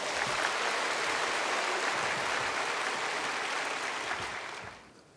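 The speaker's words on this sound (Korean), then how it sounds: "박수로 환영하십시다" A church congregation applauds steadily at a baptism service, with dense clapping for several seconds before it fades out.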